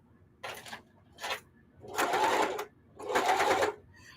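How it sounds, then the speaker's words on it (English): A sewing machine stitching denim hot pads made from old jeans runs in four bursts, two short and two longer, loud and close, with quiet pauses between runs and no talk. "These two I'm sewing together."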